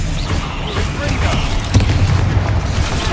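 A Bombarda blasting spell goes off in the Hogwarts Legacy video game, a dull booming burst with a rumbling low tail that swells near the middle over steady game noise.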